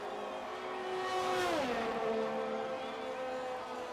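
A race car lapping in a Japanese Grand Prix racing game, its engine note sweeping down in pitch as it passes, heard close and steady for a few seconds.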